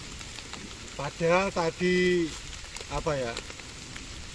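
Rain falls steadily on a rubber plantation during a wet, overcast day, a constant hiss heard throughout while someone speaks over it.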